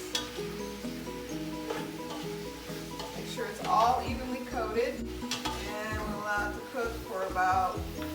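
Cabbage and chicken cook in a pan with a soft sizzle, while a utensil stirs and scrapes against the metal in uneven bursts; a voice speaks briefly over it.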